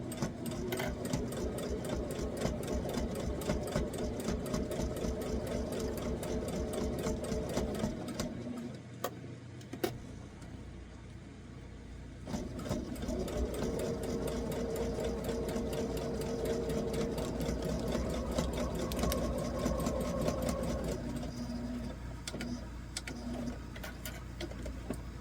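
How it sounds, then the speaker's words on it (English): A sewing machine runs a quick stitch through fabric over plastic for a homemade ruler holder, a steady rapid mechanical rattle held close and loud for most of the span, briefly pausing near the middle before resuming. "So let's just do this quick little stitch."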